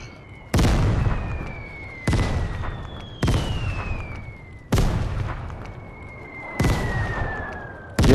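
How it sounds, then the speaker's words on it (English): Mortar shells in the shooter game Vigor blast one after another: five heavy, booming explosions spaced about two seconds apart, each preceded by a faint descending whistle and trailing off in a long rumble. "Mortar."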